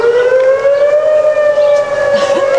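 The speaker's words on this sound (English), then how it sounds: "on the TV they said it's officially over, the tornado, and then the siren goes on." A civil defense tornado warning siren wails steadily and loudly for the whole stretch, sounding alone with no talk, its rising tone carried on strong layered harmonics.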